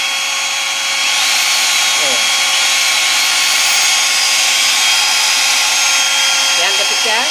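An electric drill, running off an automatic power-boosting generator device, whirs loudly and continuously for the whole stretch as a steady high-pitched whine, close by and with no one talking.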